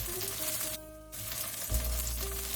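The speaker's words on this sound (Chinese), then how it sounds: "锅中放入食用油，把毛豆先煸炒一下" Edamame stir-fry in cooking oil in a wok, giving a short close sizzle with a brief dip partway through before the frying resumes.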